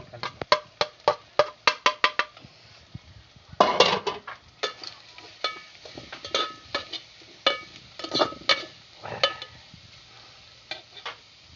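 A metal spatula clattering rapidly against a hot pan while mixing kottu with carrots, leeks and cabbage, sharp rhythmic clanks in quick bursts over a faint sizzle, close and prominent.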